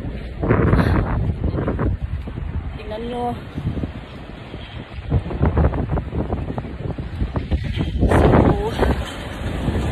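Gusty wind buffets the microphone in rough, low rumbling bursts while a person talks over it outdoors.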